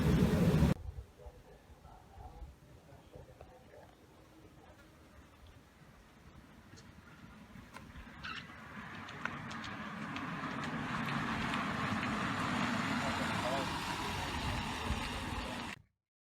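A Tesla rolls down the steepest street in Brisbane while its hold mode strains to stop it, a low road rumble that swells into a broader, louder wash of tyre and wind noise through the second half, with no talking.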